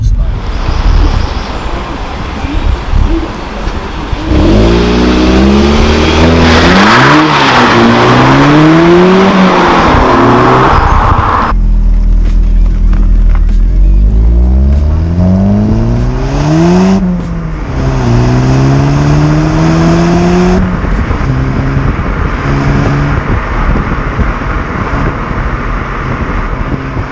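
A Volkswagen Polo GTI on its standard exhaust revs repeatedly, engine rising and falling in loud sweeps close by, with a brief pause and wind buffeting between bursts of acceleration.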